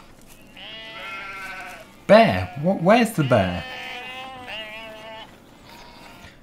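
Sheep in the video game Farming Simulator 17 bleat in long, wavering calls before and after a burst of close, excited speech from a player, the bleats moderately loud and repeated.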